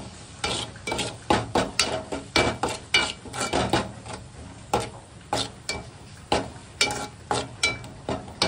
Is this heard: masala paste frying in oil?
yes